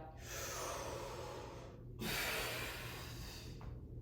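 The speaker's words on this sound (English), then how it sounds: "Big inhale, big exhale." Deep, forceful breaths during a breathwork exercise: one long inhale followed by a long exhale, then a second big breath cycle, close and clearly audible with no talking.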